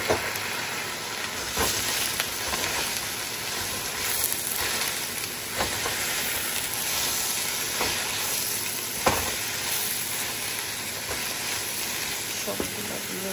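Spinach fries in a hot pan with a dense, continuous sizzling hiss, punctuated every second or two by faint scraping and stirring taps.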